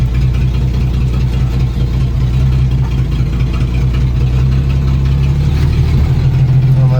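A rusty Dodge D300 Swamp Donkey truck engine runs at a steady, loud idle close by, a constant low rumble with no pauses or revving.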